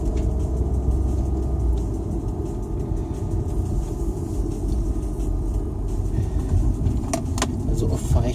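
A car drives along a road near Heidelberg toward Weinheim, a steady, close tire and engine rumble from inside the vehicle, with someone talking over it.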